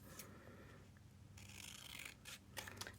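Scissors trim turquoise fabric in a few faint, close snips and rustling cuts in a quiet room.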